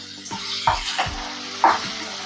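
Rice rava upma with small chopped ginger pieces is stirred in a pan, giving a few soft scraping thuds over a light, steady sizzle, close by and without talk.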